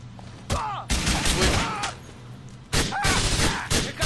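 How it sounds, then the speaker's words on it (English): Pistol gunfire in the video game GTA IV during a van chase mission, with loud sharp shots and bursts in clusters across the clip, some overlapping with game effects and talk. "Trying to use my pistol here, save some ammo."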